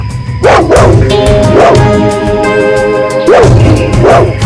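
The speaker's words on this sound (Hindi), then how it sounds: "उस तरफ मुंह करके भौंक क्यों रहा है?" A dog barks loudly and close by in four evenly spaced, resonant woofs, each with a slight whining tail, filling the short scene with no speech.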